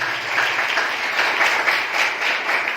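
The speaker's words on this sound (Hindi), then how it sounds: "यीशु के लिए जोरदार ताली बजाएं, जोरदार जोरदार, पूरे जोर से" Loud, sustained applause from a church congregation during a Hindi sermon, many hands clapping in a dense, steady wash with slight swells and no speech over it.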